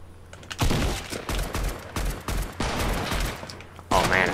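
Rapid shooting in the Fortnite battle royale game, a dense run of loud, close gunshot bursts that fills the moment, with a voice briefly heard alongside.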